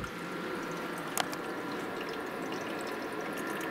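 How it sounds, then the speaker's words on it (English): Water sloshing and trickling inside a 115-watt countertop ice maker as it begins a cycle, steady under a constant fan hum, with one brief mechanical click partway through. "I can hear some water moving around inside."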